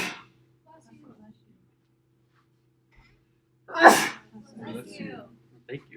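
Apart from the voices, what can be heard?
sneeze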